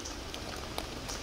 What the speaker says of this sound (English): standing in the forest in the rain